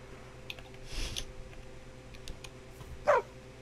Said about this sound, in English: Look at the mutant puppy.